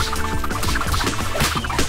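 A chicken clucks repeatedly in short bursts over a dense, steady bed of background sound, with no talking.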